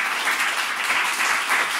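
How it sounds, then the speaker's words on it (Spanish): Audience applause at the close of a Spanish-language gathering honouring the champions, a steady dense clapping that stays loud and even throughout, with no one talking over it. "Un aplauso para ellos, los que han quedado, los campeones"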